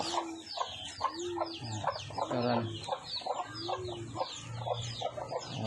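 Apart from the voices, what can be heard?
chickens clucking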